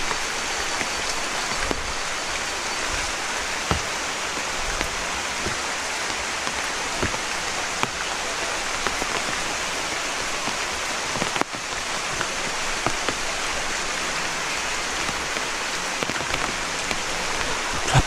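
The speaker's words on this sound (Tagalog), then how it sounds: "Ulan na ulan." Heavy rain pours steadily, a dense hiss of drops with occasional sharper patters on a surface, close and unbroken throughout.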